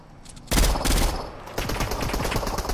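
Rapid automatic gunfire from a Fortnite match, loud and close, in two sustained bursts of quick repeated shots with a short lull between them.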